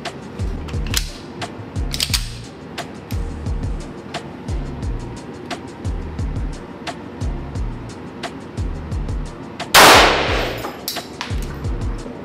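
Several sharp pistol shots from a Grandpower P11 subcompact fired at 10 metres on an outdoor range, scattered bursts over a steady rhythmic mechanical clatter, with one especially loud blast near the end; no clear talk.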